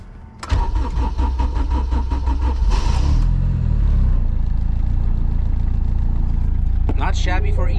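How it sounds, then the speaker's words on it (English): A turbocharged K20-powered Honda EF sedan running on E85 cranks and fires up, settling into a loud, rough, steady idle as it warms up; a brief whirring whine is heard near the end. "I need to cycle the engine because it is on E85."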